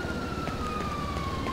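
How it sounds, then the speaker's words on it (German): Police car sirens wail in the GTA 5 Online video game, a faint steady siren tone gliding slowly downward over a low rumbling background, sounding somewhat distant. "Das sind ein paar Polizeiautos"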